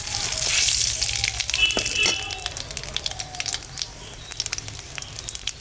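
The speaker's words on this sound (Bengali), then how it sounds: "মাছ ভাজা তেলের উপরে শুকনো লঙ্কা, গরম মশলা আর জিরা দিয়ে দিলাম, দুটো তেজপাতাও দিয়ে দিলাম" Dried chilli, garam masala, cumin and two bay leaves sizzle and crackle in hot fish-frying oil for a Bengali pangas fish curry, loud at first and then settling into a softer, steady spattering.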